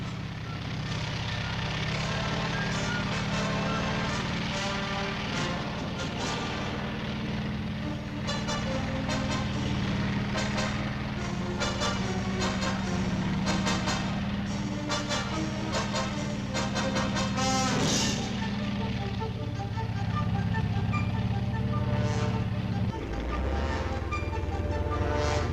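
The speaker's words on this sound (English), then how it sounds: "These are M48 tanks, the fast-moving cavalry of the 20th century." A column of Cold War M48 tanks rolls along with a heavy, continuous engine drone and mechanical clatter, steady and loud throughout, with a change in rumble near the end.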